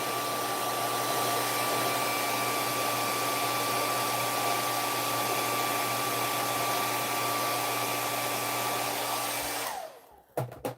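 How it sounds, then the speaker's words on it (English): A dryer blows a steady, loud stream of air over a plastic ornament for most of the clip, then cuts off abruptly near the end, followed by a couple of handling knocks. "I gotta wait till I finish drying this, trying to dry this first"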